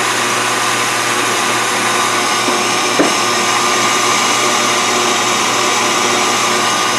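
Electric hand mixer whipping cream in a bowl, a steady loud whirring drone running unbroken throughout, with one faint knock partway through.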